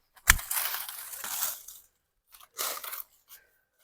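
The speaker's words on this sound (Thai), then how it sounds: "ตัดออกเลยครับ อันไหนสูงอะไรเขาก็ตัดออกครับผม" Branches are cut from a three-flavour mango tree in an orchard, making a loud crunching snap followed by a longer crackling rustle. A second, shorter crunch comes moments later, close and with no talk.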